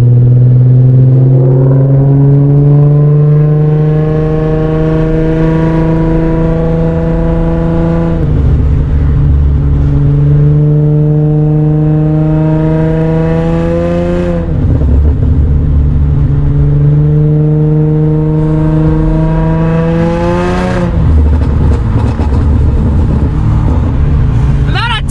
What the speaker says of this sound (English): Downshifting or being loud as hell